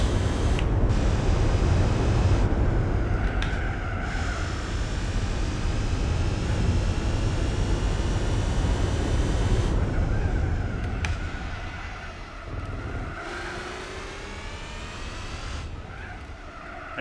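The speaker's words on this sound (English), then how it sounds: "it does have a cool little note in the sounds that sounds a bit like a supercharger" A car driving in Gran Turismo 4, its engine drone steady and close with a faint supercharger-like whine threading through, some higher tonal notes shifting as it runs, and a slight drop in level toward the end.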